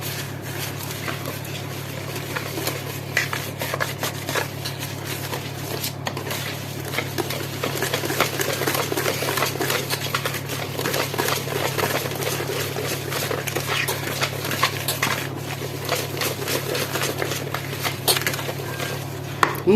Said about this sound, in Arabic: وهبتدي اقلب